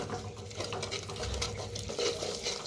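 Peanut seeds roast in a clay pot, giving a soft, steady crackling patter that continues evenly throughout, close by and fairly quiet.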